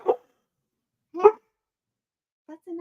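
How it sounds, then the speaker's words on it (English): An excited dog reacting to animals on TV gives two sharp, loud barks about a second apart, followed by a softer, shorter pair of yips, with silence between. "then Lucy starts barking because, hey, Kit Kat's barking. Let's bark too"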